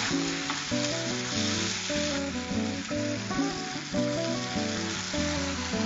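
Spices sizzle steadily in hot oil in a pan as turmeric powder is added, a close continuous frying hiss over a tonal background, without speech.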